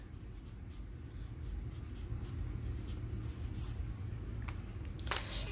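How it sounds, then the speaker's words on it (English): Pen nib cross-hatching on paper for a pen-and-ink circle study, a steady soft scratching of quick back-and-forth strokes close up, with a brief louder scrape near the end. "This one is going to be cross-hatching."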